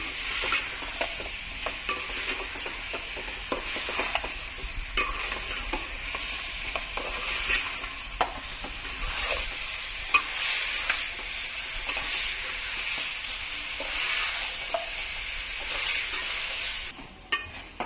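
Steady sizzling of chicken frying in hot oil on a high flame, with occasional scraping and clinks of a utensil against the pan throughout.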